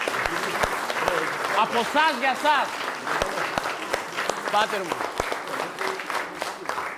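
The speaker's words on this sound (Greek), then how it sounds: "ένα δυνατό χειροκρότημα μέσα από την καρδιά μας για όλους εσάς" An audience at a Christmas event in Metaxades, Evros, claps loudly and steadily throughout, with someone speaking over the applause.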